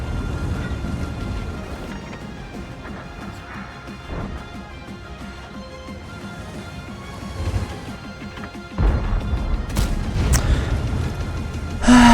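A tank shell scores a direct hit in World of Tanks, landing as a loud, sharp crash near the end over a busy rumble of battle noise.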